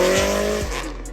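A Chevrolet Camaro leaving a car meet roars loudly at close range, its engine revving hard with squealing tires, the pitch sweeping as it accelerates away and fades slightly toward the end.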